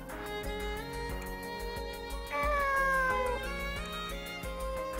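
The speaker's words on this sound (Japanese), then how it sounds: "ああ、この猫ちゃん？" A cat meows in the video game Nights of Azure, a single drawn-out call rising over steady background music, fairly soft in the mix.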